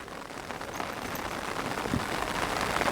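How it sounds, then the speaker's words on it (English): Steady rain falls throughout, a dense even hiss of drops that builds slightly toward the end, with no voices over it. "I would wait for the rain to stop"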